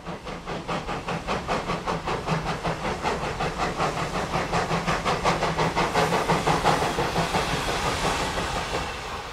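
Steam locomotive E33 of the Sursee-Triengen railway chuffs in a steady, rapid rhythm, each exhaust beat loud and hissing, continuing evenly before easing slightly at the end.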